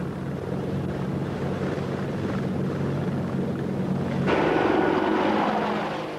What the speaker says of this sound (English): The Apache cruises at 180 miles an hour with a top speed of 235.